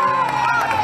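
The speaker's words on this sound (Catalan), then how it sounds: "Un fort aplaudiment per als tres." Crowd at a race awards ceremony in Xàtiva cheers and claps for the three top finishers, a brief noisy burst with shouting voices over the applause.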